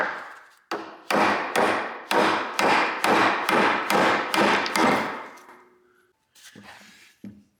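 A steady series of about a dozen loud metallic hammer blows on a Ferrari 308 suspension part, evenly spaced, followed by a pause and a few lighter taps.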